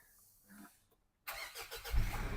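A Mitsubishi Triton 2.4 Ultra pickup's engine fires up via the push start button: a brief quiet pause, then a sudden loud catch and rising rev that settles into a steady idle close by.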